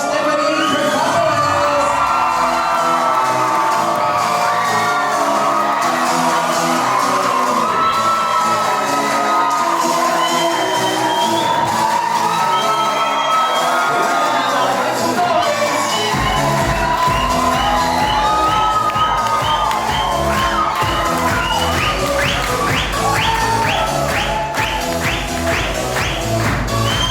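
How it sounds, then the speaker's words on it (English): Wedding guests cheer and shout for a bride and groom, a loud, continuous crowd roar that holds steady throughout and swells toward the end. "Please, let's give them a nice big round of applause."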